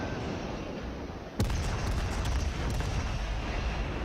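A Chapayev cruiser fires an artillery salvo in the naval combat game World of Warships: a sudden loud boom breaks over steady background rumble, followed by a few crackling secondary reports that fade into a sustained roar.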